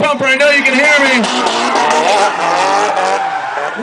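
Drift cars sliding at the 2005 NOPI Nationals at Atlanta Motor Speedway, tires squealing loudly in long wavering howls over engine roar, close and continuous, with an announcer talking over the action.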